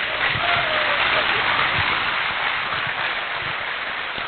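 Audience applause welcoming a woman onto the stage at an Amway event in Gurgaon, a continuous hiss-like wash of many hands with faint voices mixed in.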